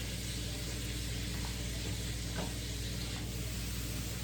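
Lamb meat sizzles and fries steadily in a pan on a stovetop, a loud, continuous hiss with faint stirring scrapes and no talking.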